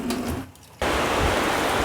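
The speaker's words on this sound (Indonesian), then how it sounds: "di sini udah hujan lagi teman-teman" Steady rain falls in a home setting, a loud, dense hiss that briefly drops away before returning at full strength and continuing without pause.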